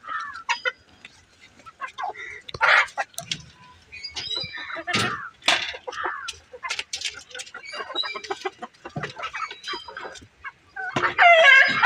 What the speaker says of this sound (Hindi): तो दोस्तों मेरी मुर्गी खिलौना से भी खेलती है